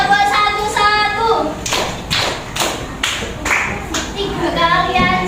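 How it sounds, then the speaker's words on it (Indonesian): Students in a Grade VII class at a madrasah in Indonesia clap a counted rhythm together, with sharp, fairly loud claps falling in short regular groups and voices faintly around them. "Berarti tepuknya 4 kali."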